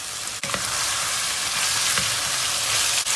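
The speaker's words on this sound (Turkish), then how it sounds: "Salçamız kavruldu, domatesini üzerine atıyoruz." Tomatoes dropped onto tomato paste already fried until it sticks to the pan bottom, for an eggplant dish, giving a loud, dense, continuous frying hiss with a few soft knocks, close by and without speech.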